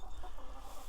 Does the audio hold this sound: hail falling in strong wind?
no